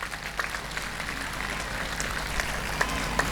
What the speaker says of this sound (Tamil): மற்ற பெற்றோர்கள் எல்லாரும் சேர்ந்து ஒரு பலத்த கைத்தட்டலை அவங்களுக்கு பரிசாக கொடுங்க